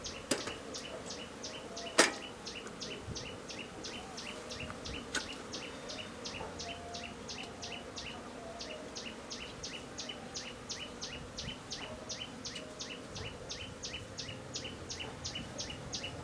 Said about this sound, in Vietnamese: ong rừng bắt đầu có rồi này.